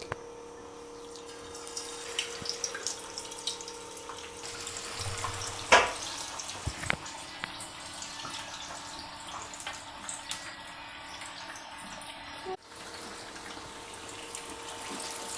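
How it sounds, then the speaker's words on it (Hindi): Fish deep frying in hot oil in a pan gives a steady, close sizzling hiss with a brief louder pop partway through, and no voices. "बस इतनी ही फ़िश डालेंगे पैन में और अच्छे से करेंगे इसे फ्राई।"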